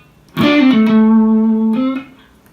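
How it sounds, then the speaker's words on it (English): An electric guitar plays a short pentatonic lick: a few bending, sustained notes that ring out loudly and alone, then stop after about a second and a half. "a lick is a sequence of tones that someone once played"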